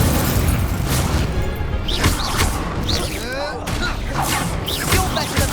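Incendio fire spell cast in Hogwarts Legacy, sounding as loud booming bursts and crackling whooshes over dense game combat noise, with several impacts across the stretch and voices calling out spells.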